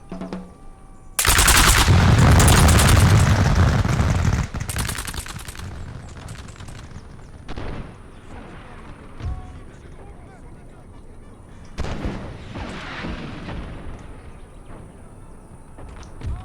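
Troops open fire in a Napoleon video game set in Egypt, starting with a dense, loud volley of massed musketry that crackles for a few seconds. Scattered shots and further bursts follow under someone speaking.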